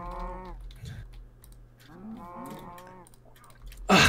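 A cow moos in the Minecraft video game, a few drawn-out lowing calls at moderate volume, alone with no talk, ending in a short louder burst.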